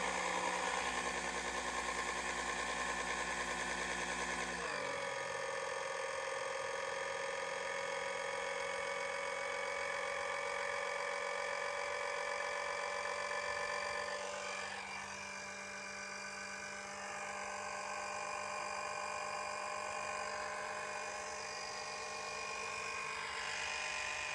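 A pump draws warm oil out of a small engine and runs as a steady, continuous mechanical whine and hum. It starts abruptly at about five seconds and keeps an even pitch throughout, with no talking.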